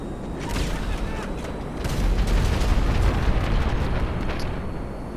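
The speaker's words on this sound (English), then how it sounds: "let's see if we can bomb this tank" A bomb blast on a tank in Grand Theft Auto 5, a dense roaring rumble of explosion and debris that swells midway and stays loud throughout.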